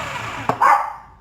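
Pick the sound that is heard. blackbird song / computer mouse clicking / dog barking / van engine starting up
dog barking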